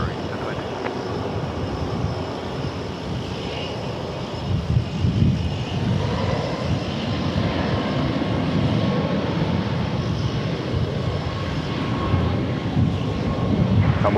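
Airplane at DFW Airport, a steady broad engine roar that holds throughout and builds slightly midway, heard from a spotting position with continuous background noise.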